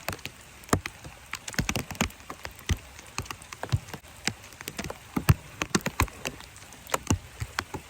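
Rain patters steadily on a surface, scattered sharp drop impacts and taps ticking irregularly over a soft hiss, close and fairly quiet with no talking.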